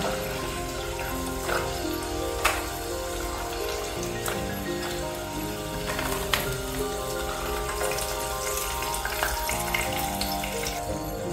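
Cassava crisps draining of hot frying oil in a strainer give a steady, close sizzling patter with scattered crackles and drips, continuous throughout with no talk.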